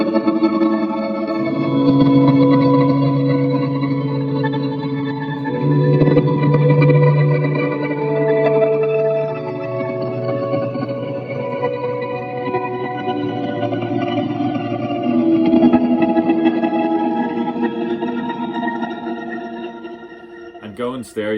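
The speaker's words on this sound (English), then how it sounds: "going stereo just makes all your reverbs and all your delays just sort of come to life" Electric guitar played through a stereo pair of Victory amps, with reverb and delay adding wide, washy sustain; chordal parts ring steadily for about twenty seconds, loud and alone, ending with a brief burst of noise.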